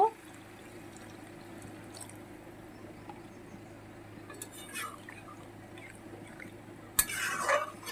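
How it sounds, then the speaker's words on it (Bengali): Water goes into a cooking pot of browned food: a faint low simmer and light clinks first, then a short, louder splashing pour right at the end. "আমি সামান্য পরিমাণে একটু জল দিয়ে দেব"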